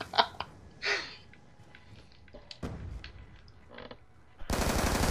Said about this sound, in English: I shot him in the head and he died